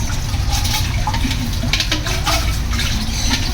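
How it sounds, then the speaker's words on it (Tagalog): Water gushes strongly from a tap in a shared apartment during laundry, making a continuous, loud, hissing splash that holds steady from start to finish without any talk. "Buti na lang malakas yung tubig ngayon."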